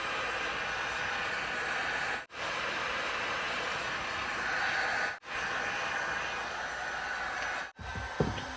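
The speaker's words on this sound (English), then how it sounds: "Turn the heat gun on, turn it up to high," A heat gun on high blows a loud, steady hiss of hot air onto heat shrink, close up, cutting out briefly three times before resuming.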